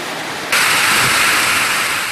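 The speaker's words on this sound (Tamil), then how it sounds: "பலத்த காற்றுடன் கூடிய கனமழை பெய்தது" Heavy rain driven by strong wind in Rasipuram, Namakkal district, surges in abruptly after a quieter moment into a loud, steady hiss that holds to the end.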